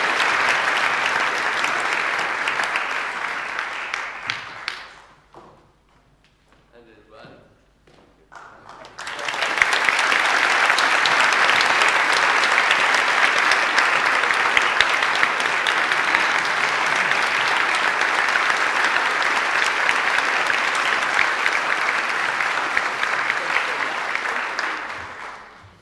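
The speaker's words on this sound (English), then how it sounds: "Big round of applause for Baela." Loud, sustained applause from a large lecture audience, briefly dying down to near silence before swelling again into a long, steady round of clapping.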